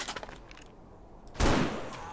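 A burst of gunfire erupts from a firefight in the survival video game 7 Days to Die, sudden and loud after a quieter stretch and ringing on for a moment, with faint sounds from the game preceding it.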